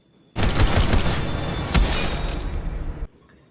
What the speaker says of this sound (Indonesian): tembakan cepat dari Barney dan lemparan golok cepat dari Christmas menghujang Munro